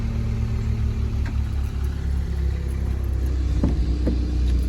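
A manual VW Golf R mk7.5 sits idling after a remote start, its engine a steady low rumble close by with a slight lift in revs near the end, no voices over it.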